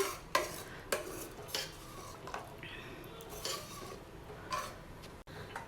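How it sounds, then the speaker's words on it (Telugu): A metal spoon clinks and scrapes in a pan while cowpea dal is mixed into its tempering, with a few sharp taps standing out over quiet, close stirring. "పప్పు యాడ్ చేసిన తర్వాత ఈ తాలింపు అంతా కూడా బాగా కలిసేటట్టు మిక్స్ చేసుకోవాలండి."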